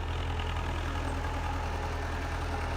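An MTZ-50 tractor engine runs steadily at a low, even rumble with a throbbing idle-like beat, close and continuous with no talk, straining slightly as it works a disc plough.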